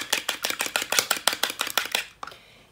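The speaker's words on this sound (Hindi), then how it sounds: "सबसे पहले ये हम लोग अंडे को फेंट लेंगे" Eggs being beaten for chicken cutlets, about fifteen rapid, evenly spaced clacking strokes of a utensil against a bowl, close and fairly loud, followed by a single softer knock.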